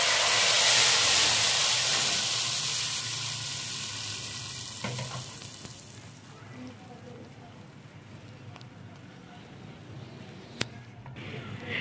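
Cumin tadka, browned in hot oil, is poured into cooked mixed dal of moong, masoor and chana, giving a loud burst of sizzling that fades into a softer steady hiss, with a brief clink near the end.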